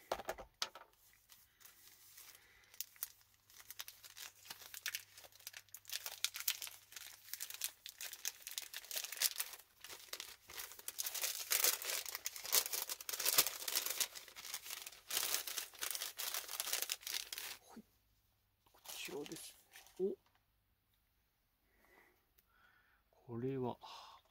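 A sealed trading card pack from a box of official Kohei Uchimura gymnastics athlete cards is torn open by hand, with close, continuous crinkling and tearing of foil wrapping for most of the time, then quieter pauses with a few brief handling sounds.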